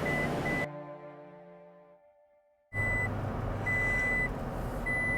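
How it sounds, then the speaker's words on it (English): A truck's seatbelt warning chime sounds for an unbuckled passenger seat, steady repeated beeps over cabin hum, cutting out briefly before returning as a long, evenly spaced series of tones. "Listen to the fine sounds of my truck believing that my veteran Patton is a passenger that is not wearing their seatbelt."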